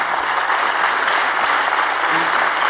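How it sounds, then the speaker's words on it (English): Applause from an audience at a political speech, a steady dense wash of many clapping hands heard at some distance, continuous and even throughout with no voices standing out. "you shouldn't clap for that"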